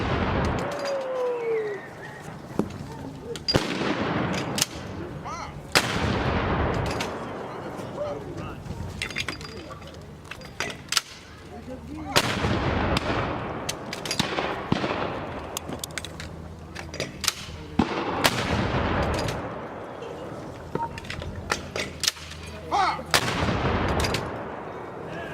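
Historic artillery cannons fire at a 2018 Jamestown demonstration, several loud booming shots rolling out every few seconds, with crew commands spoken between rounds.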